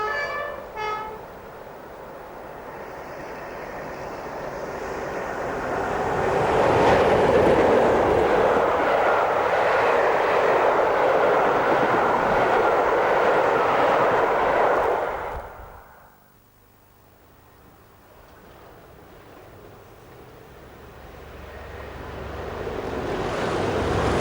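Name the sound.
A1A Rail Tours train running on the Mid-Hants Railway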